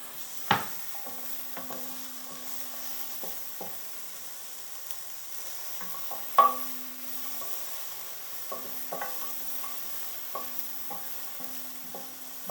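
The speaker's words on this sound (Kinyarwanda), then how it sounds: "igitunguru murabizi kiba cyoroshye gushya, ni amasegonda" Onion sizzles quietly in a pan while a utensil stirs it, with sharp scraping clicks and taps at irregular intervals over a steady low frying hiss.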